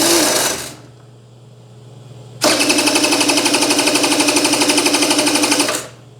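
An old Honda two-stroke engine cranks without catching, a short burst followed by a pause and then a steady rapid pull-start churn lasting about three seconds, close and loud.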